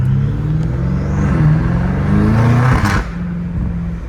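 Straight-piped BMW M5 Competition with about 650 hp, its engine rumbling loudly up close with a steady rising and falling growl and a short sharp rev burst near the end.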